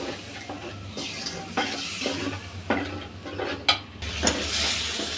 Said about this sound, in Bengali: এখন একটু পানি দিয়ে দিলাম।